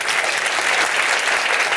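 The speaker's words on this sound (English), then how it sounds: "Give me an applause like you really like the ad very," Loud, dense applause from a conference audience at Hero Conf, a sustained wash of many hands clapping that holds steady for about two seconds with no pauses.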